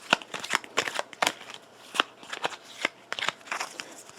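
A deck of board-game event cards is riffled and shuffled close up, with quick bursts of crisp paper flutters and snaps coming in an uneven rhythm.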